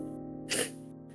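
A single sneeze bursts out over a steady background music bed, brief and fairly close, rising sharply and fading within a moment.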